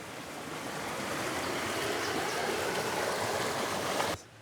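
Water rushes steadily through sluices at Elim in the Western Cape, South Africa, a dense, continuous roar of flowing water close by that cuts off abruptly near the end.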